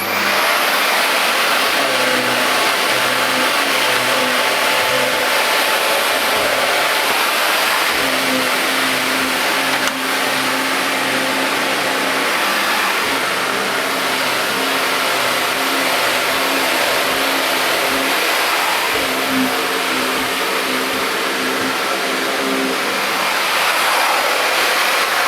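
A Miele S164 Quickstep upright stick vacuum runs its power head on stairs, a loud continuous motor whine whose pitch rises and dips as it moves, with no talking.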